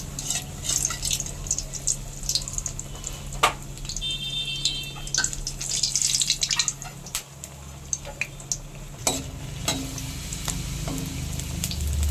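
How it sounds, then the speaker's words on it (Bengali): Malpua sweet pancakes frying in hot oil for a Janmashtami recipe: a soft, steady sizzle with scattered clicks and spatters and faint scraping of a utensil throughout, at low level. "এইভাবে করে আমি সব মালপোয়াগুলো ভেজে নেব।"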